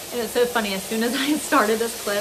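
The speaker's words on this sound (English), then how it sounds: "cooking a steak" Steak frying in a pan gives a steady close sizzle that runs under a person talking the whole time.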